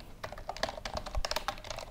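Rapid, irregular keystrokes on a computer keyboard, close and fairly quiet, a brisk burst of typing with no voices.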